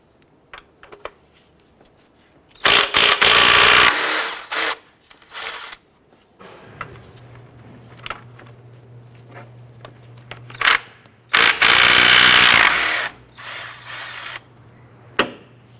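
A 17mm socket ratchet removes motor mount bolts on a 2001-2005 Honda Civic, giving close bursts of rapid clicking and metallic rattling in two main spells, with lighter taps and handling noises between them and a low hum underneath.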